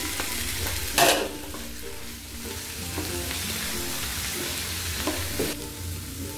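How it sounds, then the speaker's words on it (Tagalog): Green peas and canned corn being sautéed in a pan for a creamy sipo egg dish, with a steady close sizzle, faint stirring clinks and a sharper scrape near the start. "At sinunod ko ng igisa dito yung green peas."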